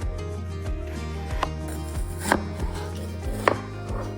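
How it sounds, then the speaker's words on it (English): Knife slicing a peeled onion into thin pieces on a cutting board, a steady run of close, crisp chops with a few sharper cuts, no voices. "Peel an onion and then slice it into thin pieces"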